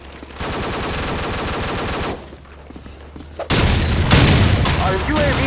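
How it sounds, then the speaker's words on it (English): Call of Duty 4 airstrike in an online match: sustained rapid gunfire gives way to a sudden heavy wave of loud booming explosions that rumble on through the rest of the clip. "Airstrike on the way."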